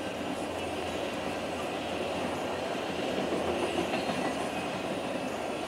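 A freight train with black and white tanker cars rolls past in a continuous rumbling roar with faint rhythmic wheel clatter, steady and fairly close.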